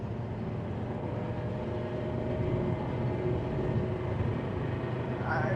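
A non-turbo 2.4 vehicle fitted with a big-bore stainless exhaust drones steadily while driving, a continuous broad engine and road rumble that holds a fairly even loudness with no clear gear changes.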